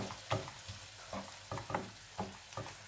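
Peppers and onions sizzle and fry in a pan ahead of adding eggs, with a steady crackle broken by repeated stirring scrapes and small bursts, close and fairly quiet.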